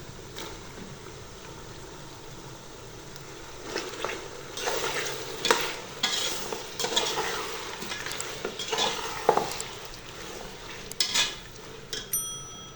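Chopped tomatoes stirred into a frying pan with ginger-garlic paste for beef korma, quiet sizzling broken by repeated bursts of spoon scraping and clinks against the pan.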